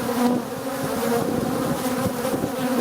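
Honeybees and drones swarm at a beehive, a loud, close, steady buzzing hum of many wings droning together without pause, no voices over it.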